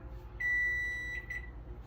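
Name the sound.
kitchen timer beeping as countdown ends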